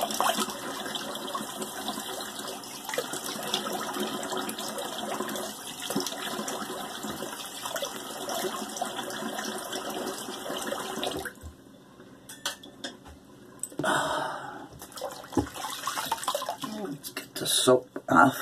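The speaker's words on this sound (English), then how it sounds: "let me cold water rinse." Cold tap water runs and splashes steadily while a face is rinsed at a sink during a shave, with a continuous broadband wash that breaks off partway and returns in short bursts near the end.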